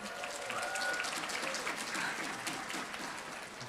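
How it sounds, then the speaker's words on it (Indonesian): A large audience at an Atomy company seminar claps together in a dense, steady round of applause that holds for several seconds with no voices over it. "지금 막 박수 쳐주신 분들의 애텀에서 임페리얼 마스터가 꼭 되시길 바랍니다."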